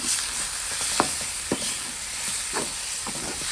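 Fish curry base sautéing in hot oil, a steady bright sizzle with a few sharp spatula scrapes and stirs against the pan, close and alone.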